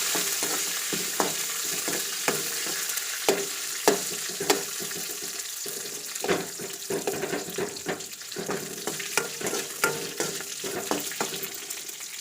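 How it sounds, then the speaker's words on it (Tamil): Tamarind, green chilies and garlic sautéing in a pan for Chettinad kara chutney: steady sizzling and frying with repeated sharp scraping taps of a stirring spoon against the pan, close and without talk. "அதோடு இந்த மூணு கடையும் அப்படியே புளி பச்சை மிளகாய் பூண்டு எல்லாத்தையும் போட்டு நல்லா வதக்கிக்கணும்"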